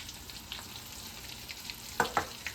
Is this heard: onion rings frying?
yes